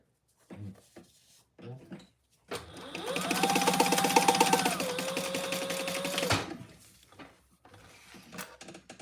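Sewing machine stitching a trifold wallet: a few short mechanical clicks, then about four seconds of loud, rapid whirring stitching with a rising motor tone that stops abruptly, followed by scattered light handling taps.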